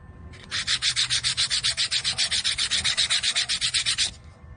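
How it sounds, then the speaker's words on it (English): Rapid back-and-forth hand sanding of a wooden spoon fiddle with a hobby stick and glued-on sandpaper, about thirty even rasping strokes in a steady rhythm, close and fairly loud, with no talking. "the little hobby stick with some sandpaper glued to it makes a perfect little sanding file."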